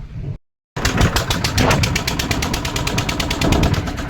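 A motorboat engine on the Narmada river starts after a brief dropout, then runs as a loud, steady, rapidly pulsing drone with no voices over it.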